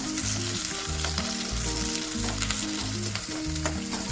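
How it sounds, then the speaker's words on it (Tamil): Onions frying in oil for chicken uppu kari, a continuous close sizzle broken by rhythmic stirring scrapes, with no voices. "வெங்காயம் நல்லா எண்ணெயிலே வதங்கணும்."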